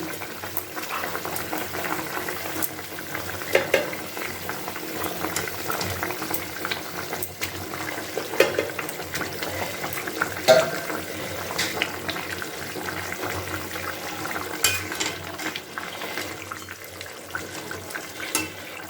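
A rohu fish curry with potato and cauliflower boils steadily in a pot as fried fish pieces are added, a continuous bubbling simmer with small pops throughout and no voices.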